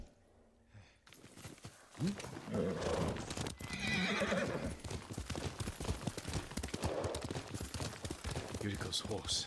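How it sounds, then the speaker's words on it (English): Horse hoofbeats clip-clopping at a gallop with a loud neigh and whinny, from the samurai game Ghost of Tsushima, close and busy, with some game voices mixed in. "Yuriko's horse."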